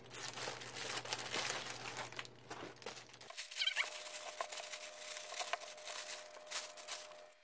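Packaging for a micro laser engraver is handled and opened, with continuous close crinkling, rustling and light tapping of plastic and cardboard and no talk. A faint steady hum sits underneath at first.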